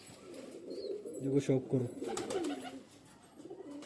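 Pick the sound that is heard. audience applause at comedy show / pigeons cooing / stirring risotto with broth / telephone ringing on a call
pigeons cooing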